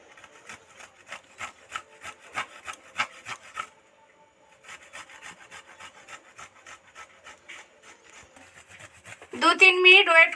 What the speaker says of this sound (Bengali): আর কাঁচা দুটো লঙ্কা গ্রেট করে নিচ্ছে